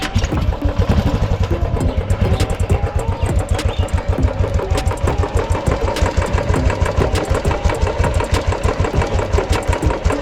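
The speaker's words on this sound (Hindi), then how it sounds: "और अब का साउंड सुनो जब इसमें सारा काम इसका हुआ, इंजन इसका एकदम सेट हुआ है" An old Royal Enfield Bullet 350 single-cylinder engine running after repair, a loud, close, rapid regular thumping beat that holds steady throughout.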